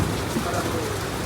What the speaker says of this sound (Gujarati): જોઈ લો બહાર વરસાદ ચાલુ છે અને અવાજ પણ કરી રહ્યો છે